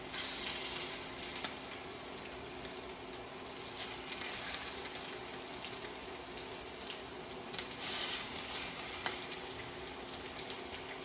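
Miso shrimp grilling in butter in a pan over lowered heat, a steady dense sizzle with occasional sharper pops and crackles, close and continuous with no talking.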